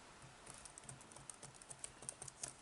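Quiet keystrokes on a computer keyboard tap out in an uneven, steady stream while text is written into a blog post, close and soft with no voices.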